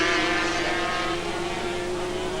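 Several 1984-era racing karts with Rotex engines run hard around the Zwartkop track in South Africa, a loud, sustained high-pitched engine whine with steady harmonics, continuous throughout and with no voices over it.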